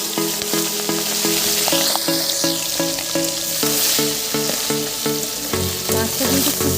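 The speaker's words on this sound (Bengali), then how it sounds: "এবার আমি মাছগুলো দিয়ে দেব।" Small fish frying in hot mustard oil, a loud steady sizzle with rhythmic scraping and clinking of a utensil against the pan throughout, close and continuous with no voices.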